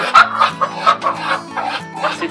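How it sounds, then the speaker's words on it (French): A hen clucks repeatedly at close range in a backyard flock, a steady run of short, throaty pulses with a few sharper squawks, while low human sounds sit underneath. "Hey, la poule!"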